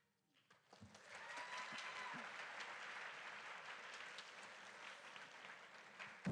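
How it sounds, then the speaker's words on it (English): Audience at a high school commencement ceremony breaks into sustained applause, rising after the first second and holding as a dense, steady wash of clapping with no talk. "please give a round of applause to all of these students"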